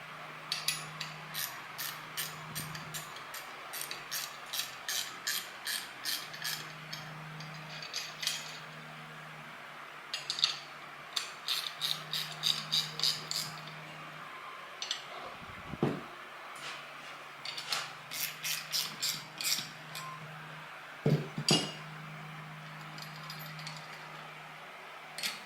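Ratchet clicks in repeated bursts while bolts are tightened on a Boss air suspension airbag, working across the bag from side to side, with steady low hum underneath and brief pauses between runs.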